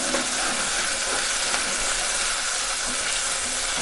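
Tomatoes and onions sautéing in a pan for mutton gravy give off a steady, dense frying sizzle and hiss that holds at an even level throughout. It is close and continuous, with no speech.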